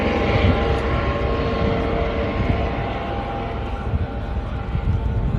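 A Coast Guard helicopter passes overhead during a morning walk in Savannah, giving a loud, steady, close rotor-and-engine roar that fills the whole stretch without a break.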